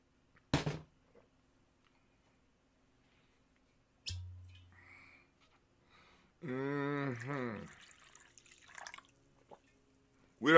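A person drinking water in a quiet room: a few isolated wet sips and swallows separated by silence, then a longer gulping stretch with a voiced, sighing exhale, followed by small clicks.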